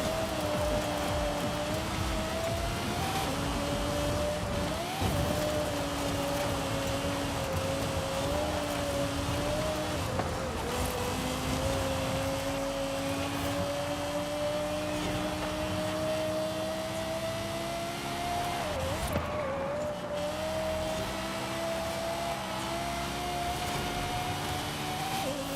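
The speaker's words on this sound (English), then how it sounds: "At least this car sounds good though." A car engine in Forza Horizon 5 drones steadily throughout, its pitch rising and dipping as it revs and shifts, with no talking.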